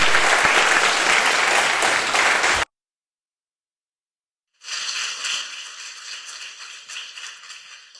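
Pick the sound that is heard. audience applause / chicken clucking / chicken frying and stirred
audience applause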